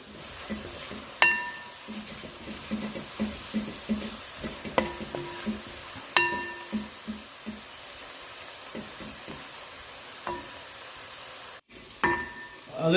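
Onions sautéing in a pan for a mushroom curry, a steady soft sizzle broken by occasional sharp clinks of a utensil against the pan, close and moderate in level.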